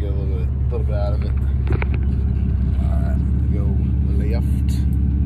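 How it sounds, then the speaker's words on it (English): Pickup truck with a 6.7 Cummins diesel engine driving, its low, steady engine rumble heard from inside the cab beneath someone talking throughout. "I may actually drive by this lake, and then go through the other side"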